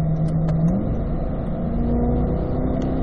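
A 2020 Corvette C8 with paddle shifters accelerates hard on a track lap, its engine droning steadily loud from inside the cabin with a rising pitch as it pulls, no voices heard.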